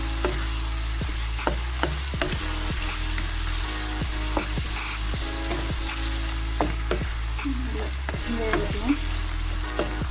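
Sri Lankan devilled chicken sauce sizzles and bubbles steadily in a frying pan, with intermittent clicks and scrapes of a utensil stirring through it, close up.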